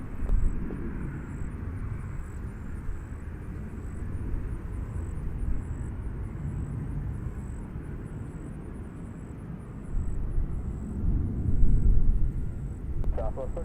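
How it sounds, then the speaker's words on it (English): Southwest Boeing 737-700 jet departing runway 20 center at Nashville International Airport, a steady broad distant roar that swells toward the end, with radio voices talking over it. "That is Southwest 2218, 737-700 departing runway 20 center"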